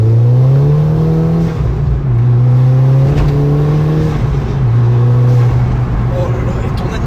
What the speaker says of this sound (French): l'admission, tu l'entends l'accélération